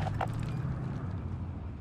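A Leopard 2A7V tank engine in War Thunder runs after a restart, giving a steady, loud low rumble that holds through the whole stretch, with a couple of brief higher clanks near the start.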